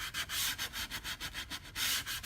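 Hand sanding along the edge of a cherry wood plank, rhythmic back-and-forth scratchy strokes repeating steadily at close range with no talking.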